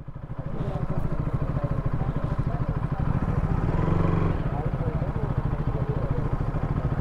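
A KTM RC 200 sport motorcycle rides along a smooth road, its engine droning loud, close and steady with a throbbing pulse, while people talk over it.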